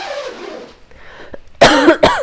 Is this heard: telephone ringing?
no